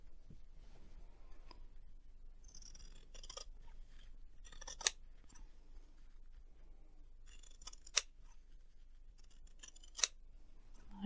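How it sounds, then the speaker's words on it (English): Scissors snipping through fabric to cut out bunting triangles, giving a few quiet crisp clicks and snips spaced a couple of seconds apart against a faint background hum. "And then you just cut them out."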